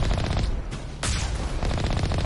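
Rapid gunfire in the Mass Effect Legendary Edition video game, a dense continuous burst of shots with a brief lull midway before firing resumes, loud and close.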